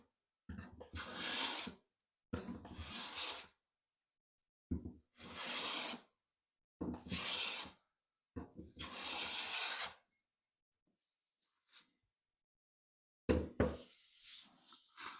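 A No. 4-1/2 jumbo smoothing hand plane is pushed at a skew across wood in five close, rasping strokes of about a second each. After a pause, a final scrape and faint handling follow.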